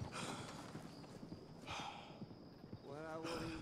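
A horse in Red Dead Redemption 2 clip-clops along at a walk, its hoof beats soft and close, with a voice talking over the steps at the start and end.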